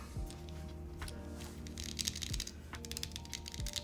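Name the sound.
typing on Leo80 TKL custom keyboard switches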